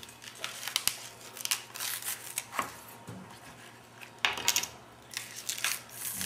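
Scissors or a blade snip through tender onion shoots in a series of crisp, close clicks and rustles, irregular in rhythm with a few louder cuts near the end.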